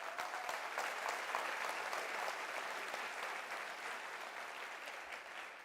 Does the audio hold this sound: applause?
yes